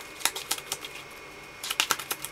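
Sleeved playing cards being shuffled, a quick run of crisp riffling snaps, then a short pause and a second burst of snapping flicks, close and fairly quiet.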